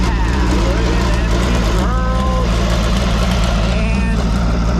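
A spare 7X midget race car engine being warmed up at Lincoln Park Speedway on a test day, a loud, steady low rumble close by with brief high tones over it and voices talking through it.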